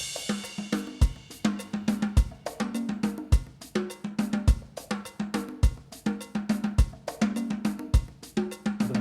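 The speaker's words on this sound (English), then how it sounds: "I recreated the foundation that I got from these several tracks and put it in a percussion." A percussion track built from samples for a big band arrangement of a pop song, with crisp repeating hits over a steady groove. Deep low thumps land about every second and a half, and bright, clicky strikes fill the spaces between them.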